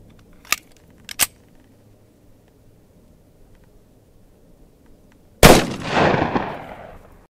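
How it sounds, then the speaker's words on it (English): A FK Brno 7.5mm pistol fires into gel in an open field: two sharp, faint snaps early on, then one loud, close blast with a rolling outdoor echo decaying over the final two seconds. "We're going to shoot this field pistol in the field against some gel and see how it does."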